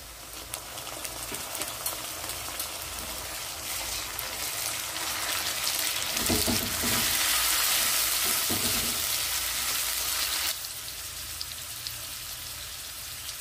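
Ginger-garlic paste hitting a pan of fried onions for a village-style prawn and taro-leaf dish, a soft crackling sizzle that swells louder midway, then eases back to a quieter fry.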